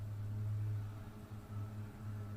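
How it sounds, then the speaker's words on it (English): A mosquito spraying truck rumbles by outdoors, heard faintly from indoors as a low, steady engine hum with slight swells in loudness. "Damn mosquito spraying truck."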